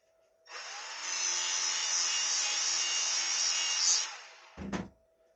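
A steady rasping file stroke takes the burr off the bar of a Stihl 011AV chainsaw, running about three and a half seconds, then a short clunk of metal being set down at the end.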